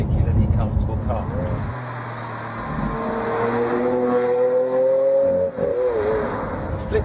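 Lamborghini Aventador LP700 engine while driving, loud and close, a rough low roar that settles into a rising, whining tone as the car pulls through the gears, with a brief dip near the end.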